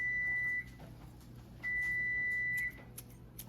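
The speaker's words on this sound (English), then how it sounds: "And there's our oven beeping at us." Two steady electronic beeps from an oven timer, one short and one longer, with a quiet gap between them and faint background clatter.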